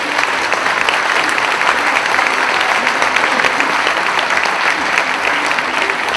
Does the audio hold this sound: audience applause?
yes